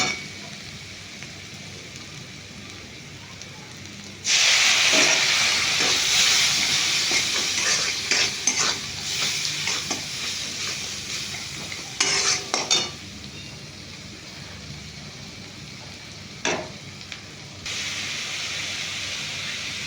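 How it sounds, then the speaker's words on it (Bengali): Potatoes with turmeric, chilli, salt and sugar are stir-fried in a pan. The clip opens quietly, then a loud sizzle starts, broken by bursts of spatula scraping and clinks before it settles back to a steady hiss. "অল্প হলুদ লঙ্কা আর নুন আর চিনি দিয়ে একটু কষে নেবো"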